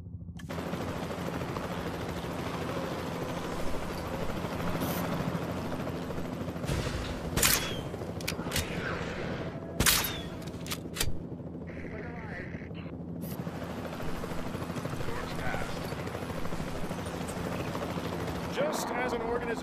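Tranquilizer rifle fire at dinosaurs in the Jurassic World Evolution 2 campaign: several sharp shot cracks over a steady dense game soundscape with a low mechanical drone.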